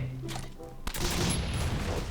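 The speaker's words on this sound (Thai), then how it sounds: "เหมือนกับมีเสียงปืนข้างหน้าเราด้วย" A single sharp gunshot cracks out in the middle, followed by a noisy burst of gunfire and rumble in the survival video game Last Island of Survival, with faint talk earlier.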